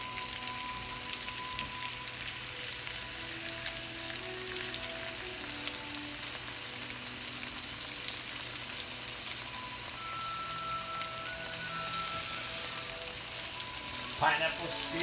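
Serrano ham–wrapped pineapple spears fry in a hot pan, giving a steady, close sizzle and crackle that runs without a break, with a few brief clatters of utensils near the end.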